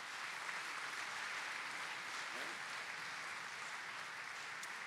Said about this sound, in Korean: 다시 한번 하나님께 영광의 박수를 올려드리겠습니다